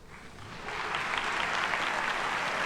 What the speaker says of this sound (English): Claps, yes. Hand claps.